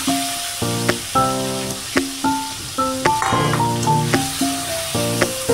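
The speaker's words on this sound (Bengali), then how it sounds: "মাছটা আমি এবার তেলের মধ্যে দিয়ে দিচ্ছি। আঁচটাকে কমিয়ে দেবো, কমিয়ে দিয়ে আমি ভাজবো।" Shrimp fry in oil over low heat with a steady soft sizzle, mostly masked by a louder melodic music track of plucked, rhythmic notes.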